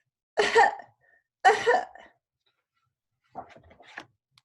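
Two sharp, close coughs separated by a pause, followed by a softer, rougher throat-clearing cough.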